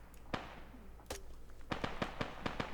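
Video game gunfire, attributed to a 40mm grenade launcher: a series of sharp, distant pops and cracks, several in quick succession toward the end, fairly faint over a low background rumble.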